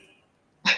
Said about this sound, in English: You may hear my dog tiptoeing in the background,